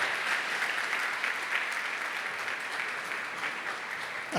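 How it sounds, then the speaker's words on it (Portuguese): A church congregation gives a warm, steady round of applause to welcome their bishop, dense clapping sustained evenly throughout without a break. "Vamos receber o nosso bispo com a calorosa salva de palmas"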